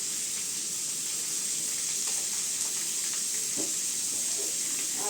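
Raw mango stirred in a pan with salt and turmeric gives a soft continuous sizzle with light scraping and stirring taps, fairly quiet and steady.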